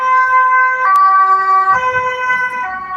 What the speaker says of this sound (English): I'm gonna wait for the siren to go by.